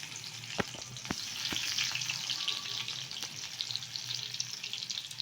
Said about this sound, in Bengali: রসুনটা একটু নেড়ে চেড়ে নিচ্ছি